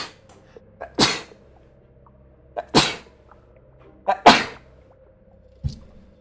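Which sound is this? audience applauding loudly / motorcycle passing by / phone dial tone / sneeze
sneeze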